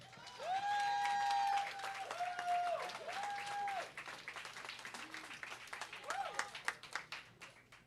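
At a jazz festival line-up announcement, an audience applauds to welcome a speaker, a soft, scattered patter of clapping under a prominent voice that talks over much of it.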